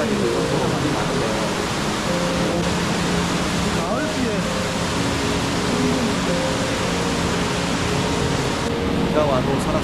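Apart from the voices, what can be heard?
heavy rain on mountain trail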